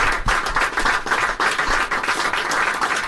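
Crowd of current and former WCBS radio station employees gathered in a room applauding, loud, sustained clapping with individual claps standing out in a steady, lively roll.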